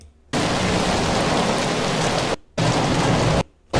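A library rain sound effect plays as steady, dense, hissing rainfall, loud and close, broken by two short silent gaps where it stops and then restarts.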